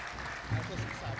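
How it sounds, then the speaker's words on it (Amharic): A congregation at a new church in Minneapolis briefly applauds the artist who decorated it: a soft, steady wash of distant clapping with a voice talking over it. "ኧረ እንደው አጨብጭቡለት በማርያም።"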